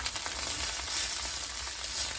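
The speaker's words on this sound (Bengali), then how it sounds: "তাই এখন ভাজা করে নিলাম" Leftover cooked rice fries in a pan with a close, steady, even sizzle that runs unbroken the whole way through.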